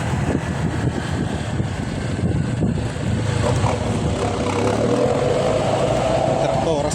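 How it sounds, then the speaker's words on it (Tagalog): A tractor engine drones steadily close by, a low continuous mechanical roar with some clatter, while a voice speaks over it. "May traktora sa harap natin kaya maingay."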